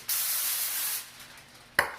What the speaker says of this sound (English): Now we spray the second sheet.